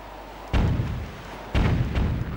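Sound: bombs exploding on cannons, video game

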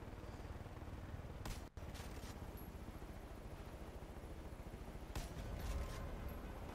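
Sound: gunfire shooting at a driver in video game Far Cry: New Dawn

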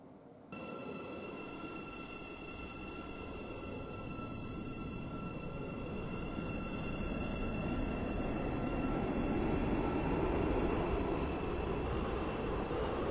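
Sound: train in a Roblox video game

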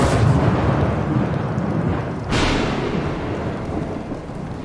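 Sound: rain and thunder in a video game

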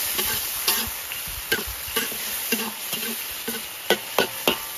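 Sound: ginger and dried chilies stir-frying in hot oil

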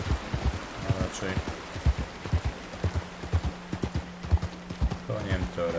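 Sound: horse hooves in video game Red Dead Redemption 2

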